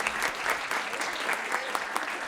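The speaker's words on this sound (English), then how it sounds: "please give them a round of applause as well" Audience applause at a student design and development project showcase, a steady wash of many hands clapping throughout, fairly close and even.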